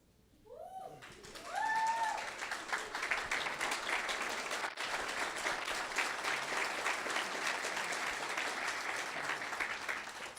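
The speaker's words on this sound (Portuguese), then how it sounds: "Elas merecem esse aplauso" Audience applause at a lecture event, beginning after a few brief tonal sounds, then building quickly into steady, sustained clapping from a room full of people that continues to the end.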